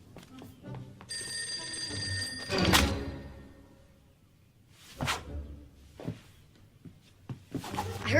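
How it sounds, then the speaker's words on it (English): An old-style telephone bell rings in one bright burst, followed by whooshing movement and short knocks, with people speaking around it. "Oh, the phone."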